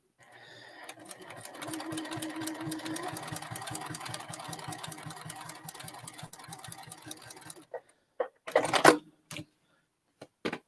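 A sewing machine stitches a quilt with a steady rapid mechanical run for about seven seconds, then stops and gives a few short separate bursts as the quilt is pivoted.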